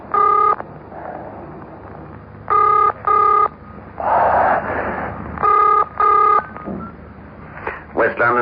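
Bursts of telephone dialing tones in a radio drama: four separate runs of rapid beeps, loud and close, with a hiss of line noise between them and a voice briefly heard.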